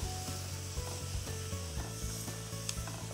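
Beef bourguignon sauce thickens as wine is added bit by bit and stirred, giving a close, steady sizzle and simmer with scraping stir strokes and soft rubbing, and no talking.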